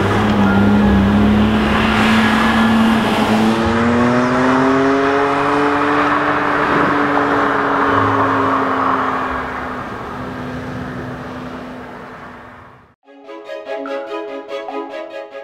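A BMW M Coupe drives hard, its engine note climbing steadily through the gears in a loud, close, rising drone that cuts off abruptly near the end, followed by a short burst of different clattering noise.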